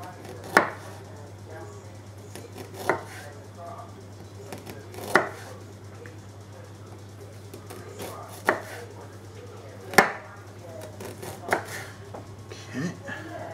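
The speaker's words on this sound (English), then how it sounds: "And we need to slice this ginger." Knife slicing fresh ginger on a cutting board for chicken ramen, each cut landing as a sharp, distinct chop at uneven intervals of a second or two, close and clear over a steady low hum.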